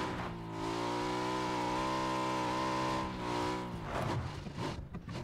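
A vehicle in the PUBG video game is driven from a first-person view, its engine holding a steady droning rev that drops and roughens toward the end, loud and continuous with no speech over it.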